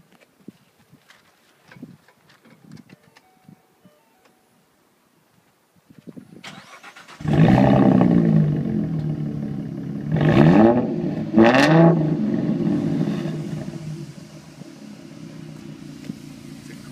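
A Roush performance car with performance exhaust cranks over and fires up after a quiet stretch, settling into a loud, close idle with two sharp revving blips before easing back to a steady rumble.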